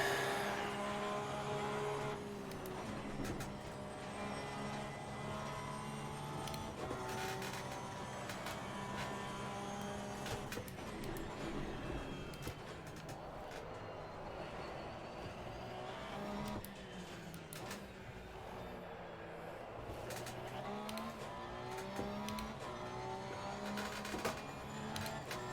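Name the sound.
race car engine in video game Assetto Corsa Competizione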